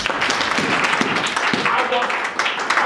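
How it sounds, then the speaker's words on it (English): A church congregation clapping during a sermon, loud and continuous, with voices mixed into the clapping. "Let's clap a hand for Jesus."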